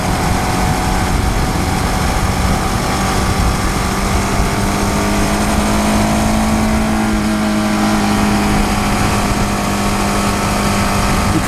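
2015 KTM Duke 690 single-cylinder motorcycle engine under way, a loud, steady droning exhaust note with a slowly shifting pitch and constant wind rush, nothing else over it.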